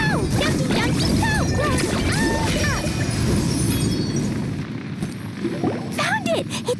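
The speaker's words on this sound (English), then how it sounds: "Glad it wasn't damaged in the explosions." Explosions in the Genshin Impact video game burst and shatter loudly and continuously, a dense crashing roar that fills most of the span before easing slightly, with voices speaking over it.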